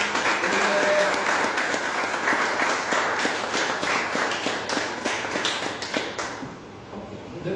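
A church congregation claps together in a dense, steady patter of many hands, loud and close, that continues for several seconds before tapering off near the end.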